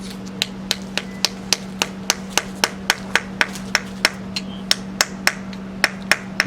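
Tapping at a water-soaked plaster block from a National Geographic gemstone excavation kit to break it apart: sharp, close knocks in a fairly even rhythm, about three per second, over a steady low hum.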